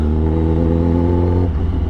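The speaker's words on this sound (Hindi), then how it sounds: "तो यहाँ से आराम से बाइक को निकालेंगे, फिर हाईवे पे जाकर मज़ा लेंगे इस बाइक का" A Kawasaki Ninja ZX10R motorcycle engine runs with a loud, steady droning rev, then settles lower near the end, close up with no talking.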